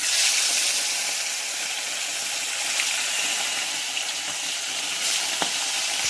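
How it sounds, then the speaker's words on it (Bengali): Bata fish fry in hot mustard oil in a wok, giving a steady, close, even sizzle with faint crackles and no talking. "এবারে মাছগুলো আমি ভেজে নেব"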